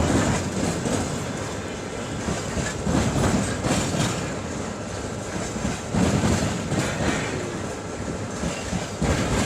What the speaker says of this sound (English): At Zima Station in East Siberia, a diesel locomotive was captured, completely engulfed in flames